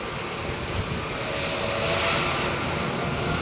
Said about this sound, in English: Virgin Dreamliner, by the way.